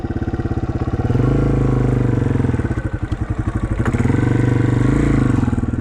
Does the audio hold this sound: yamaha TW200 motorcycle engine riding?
yes